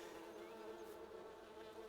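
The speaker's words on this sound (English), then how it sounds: "Now we just got bees flying everywhere." A swarm of bees buzzes in the farming video game Farming Simulator 19, a continuous, fairly quiet drone of overlapping wings that holds steady throughout with no speech.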